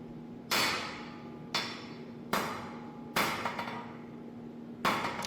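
Five heavy blows from a big forging hammer land on steel at uneven intervals, each a sharp clang that rings out briefly before the next strike.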